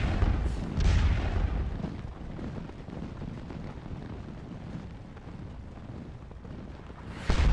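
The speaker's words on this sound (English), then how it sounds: "those cannons over there, they're firing at us already" Artillery cannons fire in the Napoleonic battle game Scourge of War: Waterloo, with deep booming blasts at the start and end over a steady rumbling, wind-like battlefield roar.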